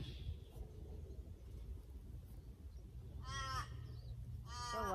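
Crows caw near mulberry trees in a fruit-picking orchard, with two bursts of loud, rapid harmonic cawing late in the clip over a steady low outdoor rumble.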